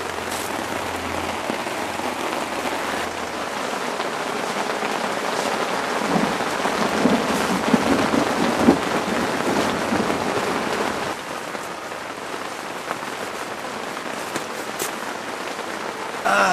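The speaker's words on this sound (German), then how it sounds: "ist gemütlich im Zelt, ne? Bei Regen." Steady rain patters on a tent from close by, a dense continuous hiss that swells midway with what may be distant thunder rumbling underneath, then eases slightly toward the end.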